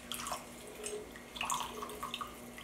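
Water pours into a Vitamix blender jar with lemon juice and apple cider vinegar for a vegan cheesy sauce, making a brief trickling, splashing flow with a few drip-like accents and no talking.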